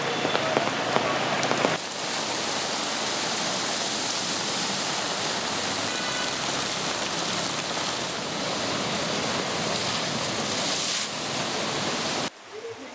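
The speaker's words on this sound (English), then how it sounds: "the district of Galle is severely affected by the heavy downpour" A heavy rain downpour in the district of Galle, Sri Lanka, roars as a dense, loud, unbroken hiss of falling water that holds steady for the whole stretch before cutting off near the end.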